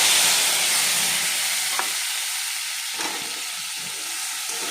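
Spice paste of ginger, cumin, melon seeds and green chili with Kashmiri chili powder, turmeric, sugar and salt frying in a pan for a raw banana kofta: steady, close sizzling with a few faint stirring scrapes.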